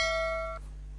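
A single bright bell ding rings out and cuts off after about half a second, over a steady low hum.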